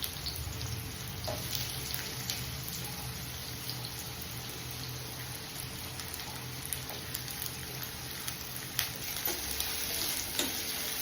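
Soaked cashews fry in a pan while a bitter gourd curry is being made, giving a faint, steady, continuous sizzle with a few small crackles.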